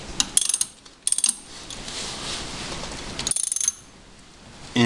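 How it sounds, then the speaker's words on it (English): Close ratchet clicks come in short rapid bursts as 10mm bolts are backed out of a Nissan 9.8B outboard water pump, separated by quieter gaps of hissing background. "Right now I'm going to take off the 10mm bolts for this."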